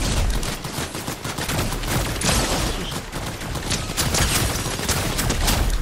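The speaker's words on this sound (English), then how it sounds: "Taking fire. I've been shot at." Dense video game gunfire, rapid overlapping shots and bursts forming a loud continuous barrage with a few heavier booms, sustained for several seconds without speech.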